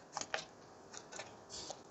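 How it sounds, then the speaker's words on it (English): A quick riffle shuffle of Pandemic Hot Zone North America board game cards: a few short, soft papery bursts in a row, close and quiet, with no one talking over them. "take the top here and just do a quick shuffle."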